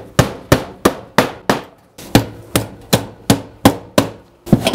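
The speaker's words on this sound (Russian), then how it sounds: "клеммера нужно забивать вот таким образом" Steady hammering as roofing clamps are driven onto a colored metal standing-seam roof sheet during manual double-seam roofing, about eleven sharp ringing blows at a brisk, even rhythm, loud and close with no talk.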